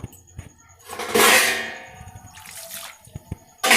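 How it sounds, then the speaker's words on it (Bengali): Boiled water splashes out as it is poured into a pot for chowmein, a short hissing gush followed by softer trickling, with metallic clinks and clangs of cookware around it. "জলটা ফুটে গেছে, এবার আমি এই পাত্রে ঢেলে দেবো।"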